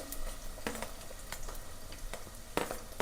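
Onions frying in hot oil in a pan for a mushroom gravy, a steady close sizzle broken by several scraping stirs, moderately loud, with no talking.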